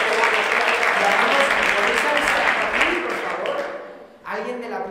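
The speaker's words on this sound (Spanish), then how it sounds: "Un fuerte aplauso para Carmen" Audience applause for a speaker at a talk, a dense burst of clapping that fades out, followed by a voice speaking.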